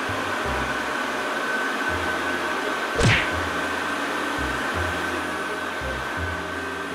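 A hand dryer runs in a Roblox public toilet, a steady mid-loud electric whir with a faint low hum beneath it and one brief sharp swish partway through.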